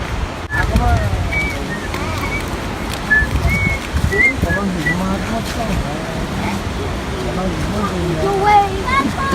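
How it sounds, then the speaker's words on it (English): A waterfall at Temperance River State Park, Minnesota, roars as a constant distant rush of water beneath wind buffeting, with people talking over it throughout. "That's where the fall is."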